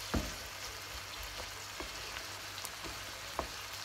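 Bell peppers and onions fry in a pan with a steady, quiet sizzle and a few soft clicks from stirring, close by and without talking.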